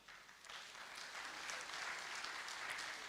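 An audience at a gathering in Vrindavan applauds faintly, a thin, distant spread of clapping that swells slightly and then holds steady.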